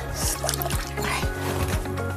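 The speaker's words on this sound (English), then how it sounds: "Rinse it out. Squeeze it really good." A rinsed grout sponge is wrung out after ceramic tile installation, letting water drip and trickle back into a bucket in a few close, wet splashes over a steady background.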